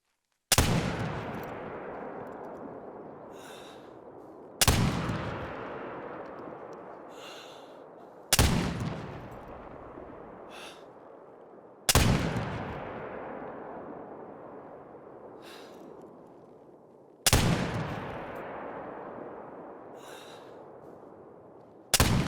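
The Curman .50 inline muzzleloader rifle in theHunter: Call of the Wild fires five loud, widely spaced shots, each a sharp crack followed by a long rolling echo that fades away, with faint breathy sounds between them.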